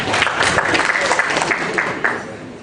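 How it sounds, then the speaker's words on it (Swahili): An audience at a live-streamed event applauds an athlete, a dense, loud, steady clapping that fades slightly toward the end. "Makofi kwa Kogo jamani"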